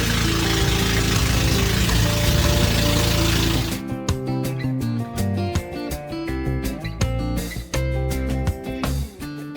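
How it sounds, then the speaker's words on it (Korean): A loud, steady boat engine roar fills the first few seconds on a whale shark tour off Cebu, then gives way to a rapid, rattling mechanical clatter with a droning hum underneath. "보트 엔진이 시끄럽기 때문에 이렇게 헤드셋을 주세요"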